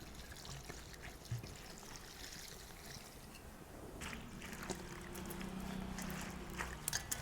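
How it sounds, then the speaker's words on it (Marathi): Aghada leafy greens are washed in water, giving a faint, continuous trickling and sloshing of water close by, with occasional soft splashes and no talking. "आपण 2 पाण्याने भाजी धुवून घेऊ."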